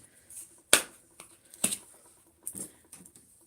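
Scissors snipping open a packet of dried basil, a few sharp close crisp cuts and crinkles separated by short pauses in an otherwise quiet room.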